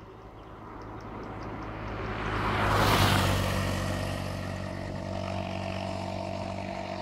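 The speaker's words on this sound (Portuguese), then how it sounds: "A moto aí." A motorcycle engine approaches from a distance, swells to a loud roar as it passes close by, then fades away.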